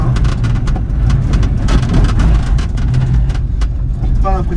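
A Kilow electric car drives fast during a chassis test, giving a continuous loud road and motor rumble with voices faintly over it.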